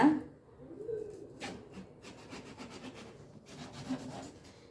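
A knife cuts through a watermelon with close rubbing, scraping strokes and faint crunchy slices. The pieces are quiet, with short pauses between them, a distant bird calls, and no one speaks.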